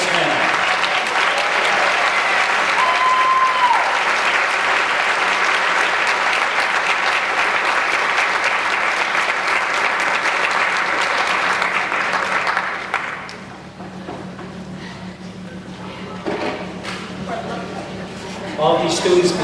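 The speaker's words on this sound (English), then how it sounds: "give them a round of applause" Sustained audience applause at a high school senior awards night for the class of 2000, loud and steady for about twelve seconds, then dropping away into quieter room sounds and a brief voice.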